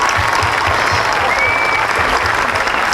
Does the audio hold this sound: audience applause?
yes